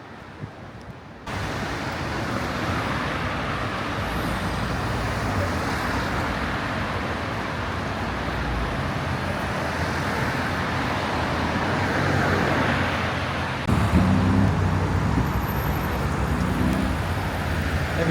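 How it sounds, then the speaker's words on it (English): Road traffic at a busy multi-lane roundabout in Tangier, Morocco: a constant dense roar of passing cars and engines, swelling slightly at times, with a brief quieter moment at the start and a louder surge near the end. "There's 6 lanes of traffic queuing around there."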